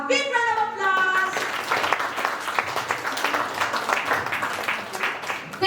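Audience applause for a speaker at a summer workshop recital and awarding ceremony, steady dense clapping filling the room, starting over a brief sung or spoken phrase and continuing at a constant level.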